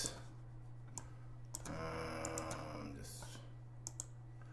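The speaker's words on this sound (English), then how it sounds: "All this clicking, by the way, it's me mixing on the fly" Mouse and control clicks come from live audio mixing during a music rehearsal, with soft, sparse, close clicks scattered over a steady low hum and a brief faint tonal passage from the mix.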